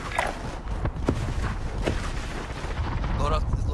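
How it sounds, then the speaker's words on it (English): Sniper and other gunfire in an online shooter video game, with sharp cracks and booms spread through a steady loud wash of battle noise, a voice talking over it. "Oh shit, I'm getting sniped now."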